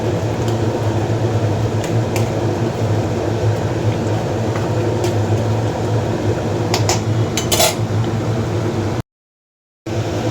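Whole fish sizzling steadily in hot oil in a pan with slit green chillies, a continuous close frying hiss with faint crackles, then a brief silent gap near the end.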